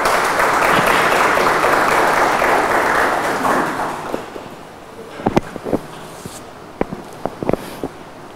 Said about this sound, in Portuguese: Uma salva de palmas a todos os professores desta instituição, visitantes e aos futuros profissionais da FAIP.